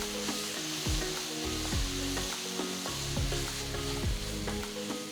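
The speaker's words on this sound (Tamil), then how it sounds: "நெக்ஸ்ட் 2 டேபிள் ஸ்பூன் இஞ்சி பூண்டு பேஸ்ட் சேர்த்து வதக்குங்க." Ginger garlic paste sizzles and fries in a hot pan while a utensil scrapes and stirs it every second or so, close up and steady, with no voices.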